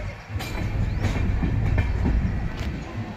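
A passenger train on the Vizag to Tirupati route pulls away again near Renigunta after a long halt, giving a loud, steady close rumble with a few faint rail clacks and no voices.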